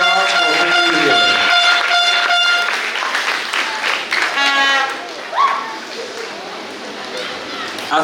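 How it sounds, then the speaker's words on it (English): A large audience at a graduation ceremony claps in a dense, loud burst that blends with horn-like tones and a speaker's voice, then fades to scattered clapping and chatter. "students, give your parents a round of applause for bringing you here."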